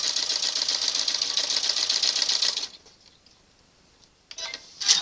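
A sewing machine stitches binding onto a Valentine's quilt top with a steady, rapid mechanical chatter that stops abruptly partway through, then restarts in a short final burst.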